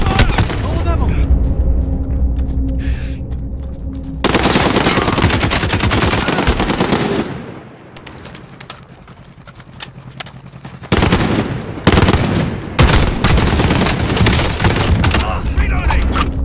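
Rapid automatic gunfire and firefight bursts in the battle royale video game Call of Duty Warzone, loud and sustained with short lulls, plus a brief quieter gap midway.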